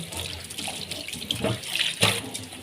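Water runs steadily from a faucet into a kitchen sink while dishes are washed, a continuous splashing stream with a few louder clatters and surges, close and alone with no talk.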